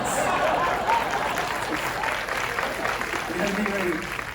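Studio audience at a comedy night breaks into loud, sustained applause, a dense wash of clapping with crowd noise and a voice talking underneath.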